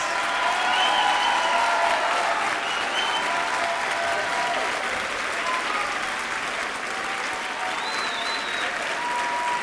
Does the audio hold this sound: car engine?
no